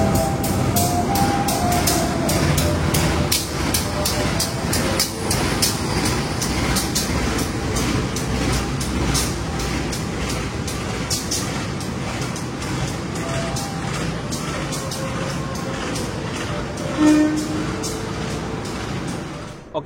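The Menoreh train sits at the Semarang Tawang station platform, a steady broad rumble of idling locomotive and carriages with rhythmic clicking and clunking, heard from the platform with the general bustle of the station.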